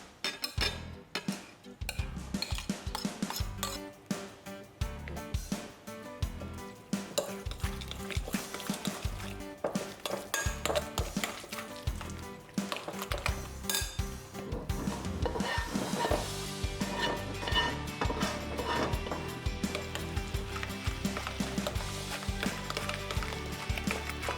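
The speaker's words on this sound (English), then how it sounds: "add our warm spinach mixture in and mix it all together" A filling of four cheeses, egg yolk and warm spinach is stirred together in a bowl for spinach puffs, with a long run of close, wet, clicking mixing strokes that grows busier and denser toward the end.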